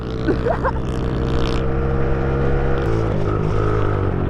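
A 50cc pit bike runs at speed with a steady, buzzing engine drone heard close by. The pitch holds fairly level with slight shifts, and no voices are heard.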